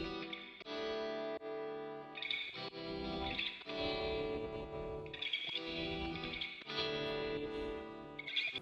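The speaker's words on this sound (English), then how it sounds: "We have the guitars." Synthesized guitars in an electronic dance track, heavily processed with chorus, distortion and effects, playing sustained chords in rhythmic phrases with short gaps, loud and alone.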